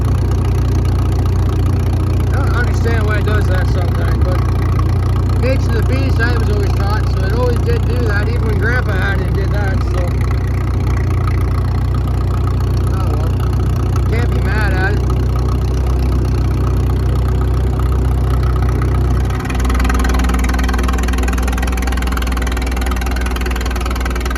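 An old gasoline engine on fresh fuel idles steadily at a steam show, a low, even rumble with a faint mechanical rattle, while people talk nearby.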